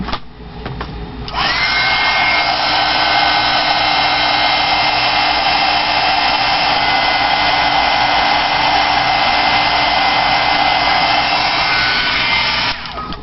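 A hair dryer runs steadily and loudly for about eleven seconds, drying Distress Ink on a butterfly-themed birthday paper craft, starting and stopping abruptly with a soft click at each end.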